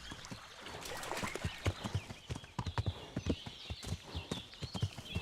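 A horse's hooves clip-clop in a steady, quick rhythm in the medieval game Kingdom Come: Deliverance, moderately close and fairly faint over a low background hum, with no voices.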